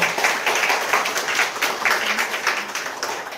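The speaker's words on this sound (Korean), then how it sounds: "큰 박수 부탁드립니다." An audience at a high school talk concert on sports careers for student athletes applauds to welcome the school principal, with dense, continuous clapping that holds steady and close throughout.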